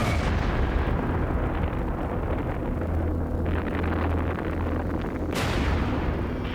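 A bomb with about twice the force of the Hiroshima bomb detonates during a destruction test near an electricity substation, heard as a loud sustained roar and rumble with a sharp burst of blast noise near the end.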